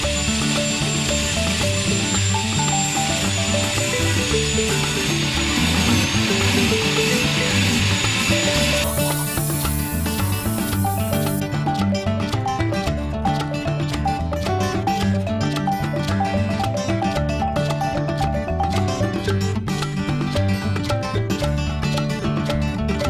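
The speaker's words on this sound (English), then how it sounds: "now I'm going to clean up where I cut these off because they're sharp and sticking out with this surface disc on the grinder" An angle grinder fitted with a surface disc cleans up sharp cut-off metal stubs on an old wine rack, giving a continuous loud whirring, rasping grind with a shifting whine that runs without pause, close by and with no talk.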